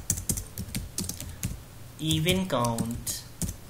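Typing C code on a computer keyboard: brisk, close clicks of keys in an uneven rhythm, continuing beneath a voice speaking over the last half.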